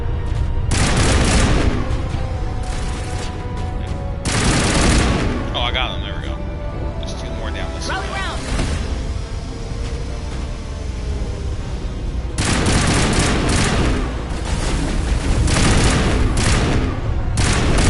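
Rifle gunfire in a sci-fi shooter video game crashes out in heavy bursts. Loud booming volleys alternate with quieter stretches of lingering echo and debris, and a second cluster of rapid shots arrives near the end.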